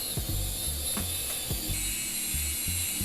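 Phillips head screws are driven into a small 4K cinewhoop drone, producing a close series of clicking ratchet-like turns and brief mechanical squeaks in an irregular rhythm, with no speech.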